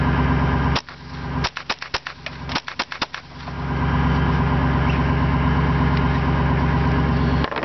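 Marlin Papoose .22 rifle firing through a full magazine outdoors, a quick string of sharp cracks spaced unevenly over a steady low engine-like hum that continues after the shots stop.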